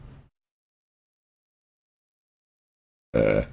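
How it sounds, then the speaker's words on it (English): A single loud, close burp erupts near the end of a quiet stretch, following a brief faint bit of sound at the very start, from a man recording alone while covering video game news. "I have to burp."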